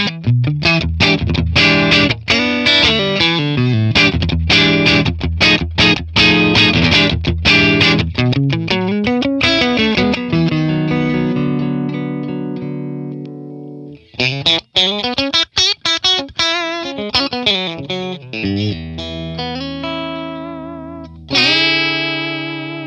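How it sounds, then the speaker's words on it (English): A Stratocaster electric guitar runs through a clean, fat Matchless Laurel Canyon DI capture with its matching cabinet impulse, playing bright chords and ringing arpeggios that sustain and decay, loud and close with a few short pauses and no talking. "I'm using the Stratocaster and I'm using the clean fat DI with the IR that comes along"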